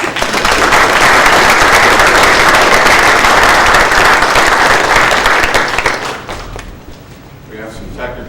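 Audience applause welcoming a speaker onto a conference stage, loud and dense steady clapping for about six seconds, then fading out to quiet room tone.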